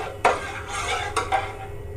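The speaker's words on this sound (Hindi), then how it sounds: "तो मैं इसमें धीरे धीरे करके जो भी स्लाइस काटी थी कच्चे केले का इसमें डाल दी" Raw banana slices dropped into a pot of boiling water, giving a couple of sharp splashy clinks against the rim over a steady simmering hiss, close and moderately loud.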